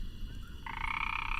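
A frog croaking in a scene from the Tamil film Puli, a steady rasping croak that begins midway and holds on loudly and close, over a faint ambient background.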